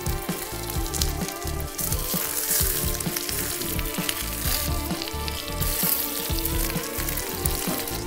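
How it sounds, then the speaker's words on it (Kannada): Stuffed capsicum cooks slowly in a pan over a low flame, giving a steady, close sizzle and crackle of frying that runs unbroken throughout with no voices. "ತುಂಬ ಕಮ್ಮಿ ಫ್ಲೇಮಲ್ಲಿ ನಿಧಾನಕ್ಕೆ ಬೇಯಿಸ್ಬೇಕು"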